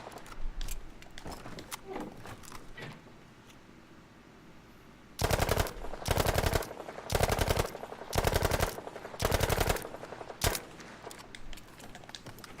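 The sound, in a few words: gunfire from a gun in Battlefield V, video game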